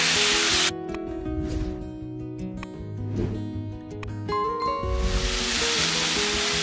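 Tomatoes dropped into a hot pan of spices burst into a loud, broad sizzling hiss, which eases into quieter frying under background music, then surges again strongly near the end.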